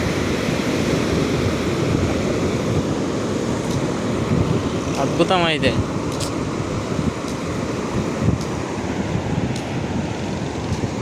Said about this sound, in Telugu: ఈ వచ్చే అలల శబ్దాలు ఒక వరదలా